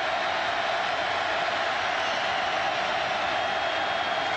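A roaring home crowd at a 2009 Tennessee versus Auburn college football game swells into a steady, dense wall of noise before a third-down play.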